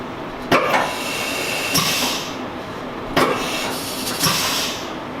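Haas mini mill spindle drawing a tool holder up by its pull stud, with sharp clunks and bursts of air hiss repeated twice, loud and close.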